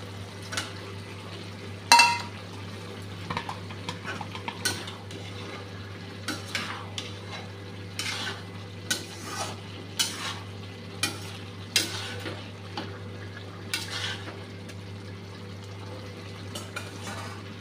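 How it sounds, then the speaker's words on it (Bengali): Magur catfish frying in a pan, a soft continuous sizzle punctuated by a dozen or so sharp scraping stirs and clinks of a spatula against the metal, with a low steady hum beneath. "এখন মাছটা দিয়ে দিচ্ছি।"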